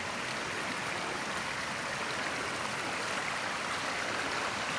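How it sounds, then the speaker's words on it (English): A small stream cascades down to a little waterfall, giving a steady, dense rushing hiss that stays even and continuous throughout, with no voices. "Goes down to this little waterfall area. The stream comes cascading through there."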